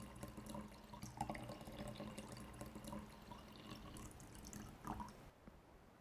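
Basal bark spray product is poured slowly from a container into a tank outdoors in a forest, a steady close liquid trickle and splash that runs for several seconds before stopping near the end.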